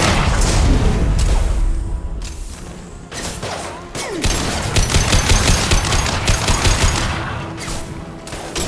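Sustained rapid gunfire rages through a firefight in the video game Mass Effect 2, with dense overlapping bursts and automatic fire rattling continuously at close range, punctuated by sharper cracks and a heavier thump near the four-second mark.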